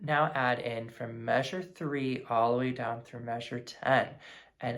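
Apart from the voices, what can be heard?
No everyday noise stands out behind the speech.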